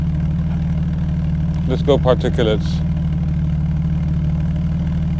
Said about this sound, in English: there's the exhaust. You can hear it, right?